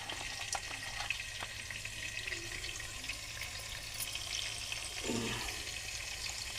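Chopped onion fries in a pan with turmeric, a steady, fairly quiet sizzle and crackle that runs unbroken, with a brief stirring scrape near the end.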